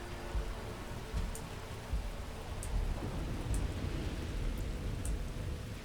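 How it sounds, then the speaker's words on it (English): Steady rain falls inside Starfield, a continuous soft hiss with low rumbling and faint scattered drops, no voices. "I didn't even know it rained here."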